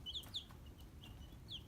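Young chicks in a brooder give faint, high chirping peeps, several short calls scattered over low background hum.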